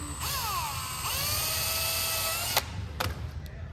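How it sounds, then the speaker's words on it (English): A high-pitched power drill whines steadily while drilling and tapping holes, its pitch dipping under load twice, then stops, followed by a few sharp taps and clicks. "I always drill and tap everything."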